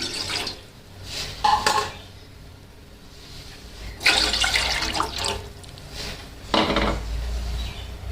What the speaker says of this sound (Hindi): तो इसमें मैं डाल दूंगी पानी